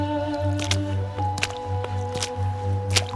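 Wet dripping and squelching sounds, like someone stepping out of water after a bath, in a Hindi horror story set on a dark verandah by a haunted well; several separate drips and squishes rise over a low, steady droning tone.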